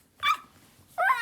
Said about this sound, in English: this is my dog that got lost